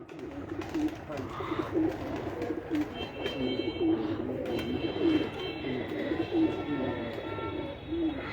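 Breeder pigeons coo in a steady repeating rhythm from close by, low throaty calls recurring about once a second, with voices talking in the background throughout.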